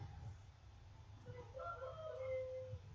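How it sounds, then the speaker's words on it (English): A rooster gives one faint crow from some distance, a wavering call lasting about a second over a low steady background hum. "And there's my rooster."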